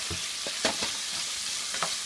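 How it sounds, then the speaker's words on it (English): Chicken stir-frying in a very hot wok, a steady loud sizzle with scattered scraping and tossing clatters from the spatula against the pan. "And you have a very clean stir fry."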